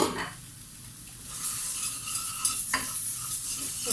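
Pepper paste, tomato paste, chili flakes, black pepper and salt are sautéed in a pot for chicken couscous soup, with a bright ongoing sizzle and several spoon stirs and scrapes close by.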